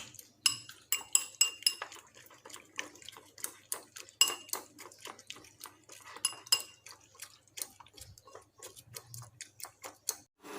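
Rapid metallic clinking of a whisk or fork beating salted eggs in a bowl, in quick uneven bursts, close and fairly crisp.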